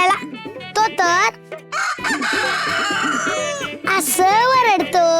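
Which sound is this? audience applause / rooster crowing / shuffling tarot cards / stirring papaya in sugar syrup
rooster crowing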